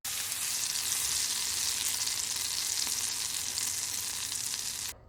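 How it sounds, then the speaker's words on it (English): Smash burgers sizzle and fry on a hot cooking surface with a bright, crackling hiss that stays steady and close for about five seconds, then cuts off abruptly, with no speech. "And here, we'll get to cooking these burgers and show you how I do smash burgers."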